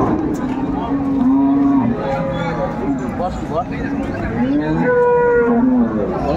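A Jersey cross cow at Ambari cattle market in Dinajpur lets out several repeated low moos, close and loud, while people talk over a background of market crowd babble.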